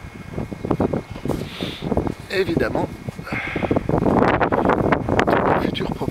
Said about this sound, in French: Là, un petit coup de vent,